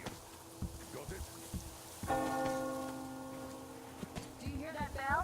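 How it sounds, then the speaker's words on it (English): A church bell in Metro Exodus rings a clear, sustained tone with shimmering overtones. It starts midway and lingers as it decays, over a soft rainy ambience with scattered thuds. "Do you hear that bell?"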